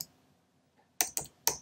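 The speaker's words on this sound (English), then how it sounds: "hello and hit enter on my keyboard" Three quick keystrokes land on a computer keyboard after a near-silent stretch, crisp and close, with the last a little apart from the first two; no speech is heard.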